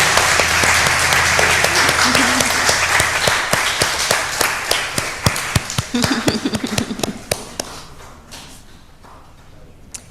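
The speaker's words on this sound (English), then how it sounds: "With a round of applause from deep gratitude, you can return to your seats" A church congregation applauds in gratitude, a dense burst of clapping that thins into scattered individual claps and fades out near the end, with faint murmuring and shuffling underneath.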